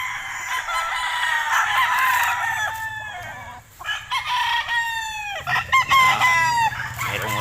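An alimbuyugin rooster crows repeatedly nearby, loud drawn-out calls with clucking and other fowl noises between them on a farm.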